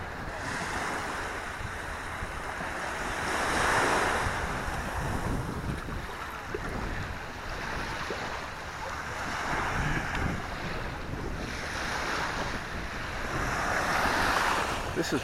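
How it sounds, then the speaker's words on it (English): Ocean waves wash steadily onto a fine sandy beach at a resort in Negril, Jamaica, with broad surges swelling every few seconds over constant surf roar and wind buffeting the microphone. "I thought I would let you take a look at the beach down here"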